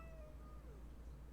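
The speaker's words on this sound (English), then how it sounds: "Hello, little kitty." A small kitten meows in a few thin, high, drawn-out cries over a steady low hum, fairly quiet and close.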